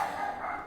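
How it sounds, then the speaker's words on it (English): A dog indoors lets out a single short, fairly faint bark with no voices around it. "I do apologize for the barking."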